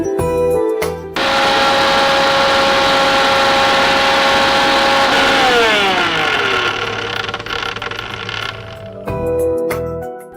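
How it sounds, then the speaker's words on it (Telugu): A mixer grinder grinds soaked moong dal: after a brief start it whirs loud and continuous for about eight seconds, the motor pitch shifting as the batter thins, then cuts off, with no speech. "దీన్ని మిక్సీ పట్టేస్తాం"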